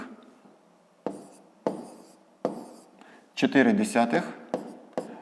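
Numbers are written by hand in a fifth-grade math exercise, with a pen tapping and scratching in short, evenly spaced strokes, while a voice speaks briefly in the middle.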